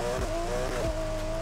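Porsche 911 RSR with a 900HP+ build in Need for Speed Heat, engine droning at a steady high pitch on a top speed run, with two brief dips in pitch like gear shifts. The tone is loud and close, and no one talks.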